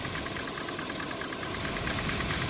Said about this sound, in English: it's a good running engine